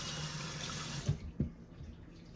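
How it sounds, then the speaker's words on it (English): A running kitchen tap hisses steadily as hands are washed under it, with a couple of splashy thumps before the flow cuts off abruptly near the end. "And wash my hands."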